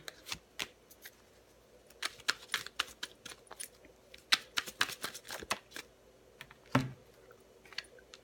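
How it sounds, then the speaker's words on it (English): Tarot cards being shuffled and pulled from a deck, a series of crisp papery riffles and snaps in irregular bursts, close and fairly quiet, with no talking. "I'm going to pull a couple more cards and we'll be done here"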